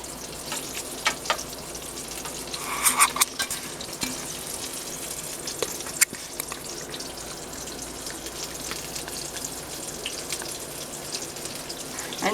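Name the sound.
green tomatoes frying in a pan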